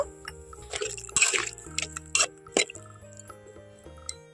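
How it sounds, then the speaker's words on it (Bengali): Water being poured into a cooking pot of Bengali chikni saag: close splashing and sloshing bursts over the first half, then drips, small plops and a light clink as it settles, no talk. "এখন আমি এখানে জল দিয়ে দেব তো আমি বেশি জল দেব না পরিমাণ মতো জল দিয়ে দেব"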